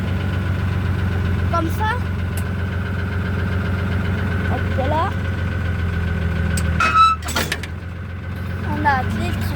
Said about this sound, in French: On a appelé le tracteur.